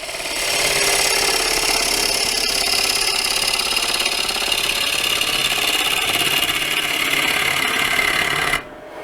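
A wood lathe turns a bowl inside out while a tool cuts into it, making a loud, steady whirring scrape that holds for several seconds and then drops off abruptly near the end.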